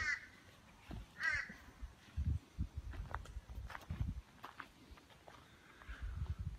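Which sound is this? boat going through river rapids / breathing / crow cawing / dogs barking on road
crow cawing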